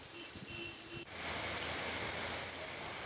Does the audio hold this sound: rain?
yes